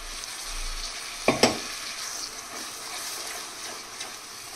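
Onion masala frying for rajma, a close steady sizzle with a pair of sharp spoon knocks early on, continuing evenly without speech.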